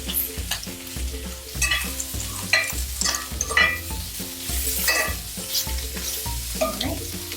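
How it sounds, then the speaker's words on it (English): Shrimp seasoned with white pepper fry in a pan with a continuous crackling sizzle and scraping stirs, while steady tonal music plays underneath. "we just want to cook it for a few minutes until the shrimp is pink on both sides"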